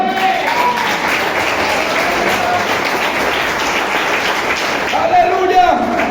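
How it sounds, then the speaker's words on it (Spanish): Congregation applauding for the Lord during a Spanish-language church service: steady, dense clapping sustained throughout, with a voice speaking over it near the end. "Dale un aplauso al Señor"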